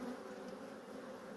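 Honeybees buzz at an open hive during an emergency treatment and inspection, a dense, steady drone close by with no voices over it.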